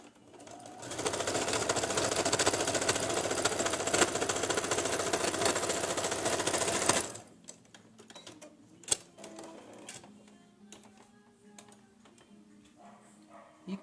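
A sewing machine stitches a seam on a patchwork quilt block in one steady, loud, close buzzing run of about six seconds, followed by quiet handling sounds and a few faint clicks.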